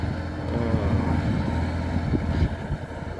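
Massey Ferguson 3080 tractor ploughing a disked field with a Kverneland ES95 reversible plough, giving a steady low engine drone with rumbling and rattling throughout.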